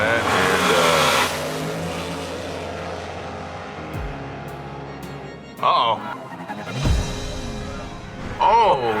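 A Corvette drag car launches with a loud engine roar that cuts out abruptly, followed by crash and impact noises and a final burst of engine and commotion, heard as loud broadcast-style audio.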